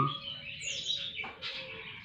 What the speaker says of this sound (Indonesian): nah itu kedengaran ya guys suara perkutut saya dan suara pleci saya